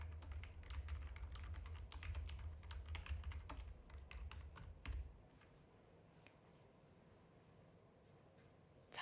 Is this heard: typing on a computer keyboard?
yes